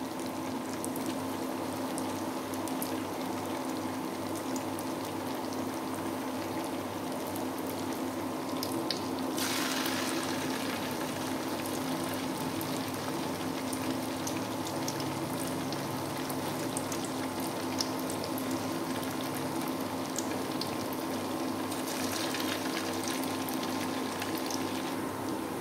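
Steady sizzling and crackling of vegetable cakes frying in hot oil until crisp, continuous and close, with no voices.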